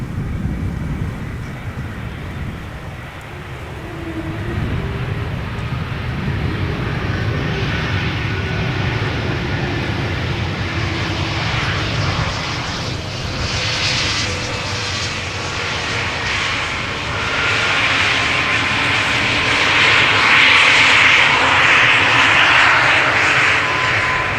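An Airbus A220 jet arriving at Amsterdam Schiphol Airport on a sunny day, its engine roar building to a steady, loud rumble with a high whine rising near the end, and no talk over it.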